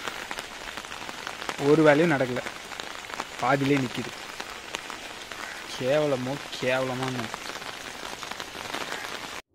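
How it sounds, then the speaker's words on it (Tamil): Steady rain falls throughout, a soft continuous wash with Tamil speech over it in several short bursts. "ரெண்டு நாள் ஃபுல்லாக மழை"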